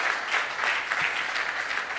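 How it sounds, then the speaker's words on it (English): An audience at a technical symposium applauds the panelists with steady, dense clapping that fills the whole moment. "A round of applause for our panelists."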